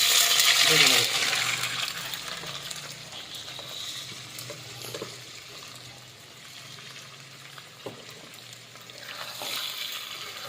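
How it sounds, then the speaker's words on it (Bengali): Marinated chicken pieces fry in a kadai while cooking chicken biryani, giving a continuous close hiss and sizzle with occasional stirring clinks, loudest at the start. "এখন দাদা বৌদি স্টাইলে চিকেনগুলো খালি জাস্ট ভাজা হবে।"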